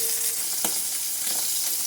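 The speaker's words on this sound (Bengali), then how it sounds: "তেল ফাটছে" Hot oil sizzles loudly and continuously as pomfret fries, with a few sharp spluttering pops breaking through the hiss.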